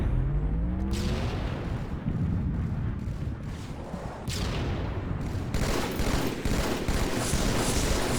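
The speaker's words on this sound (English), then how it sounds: "Oh, I got both guys shooting at me." Enemy fire hammers in Halo 2 gameplay as dense bursts of gunshots and explosive blasts stack into a loud, chaotic barrage with several sharp impacts, heard up close and alone.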